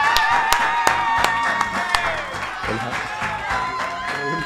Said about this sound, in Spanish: ni más ni menos que el señor, lo recibimos con un aplauso, Martín Oesterheld.